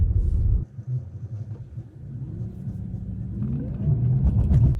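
A Tesla on FSD Beta pulls away from a stop at a San Jose intersection. Heard from inside the cabin, a low, steady road-and-motor rumble builds gradually, with traffic noise around it.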